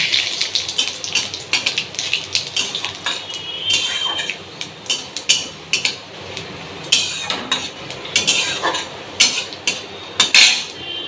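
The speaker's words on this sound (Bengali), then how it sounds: "জিরে তেজপাতা ওই তেলের মধ্যেই দিয়ে দিলাম" Cumin seeds, dry red chillies and bay leaves dropped into hot oil for a Bengali banana flower dish crackle and spit in loud, irregular bursts, close up, with no talk.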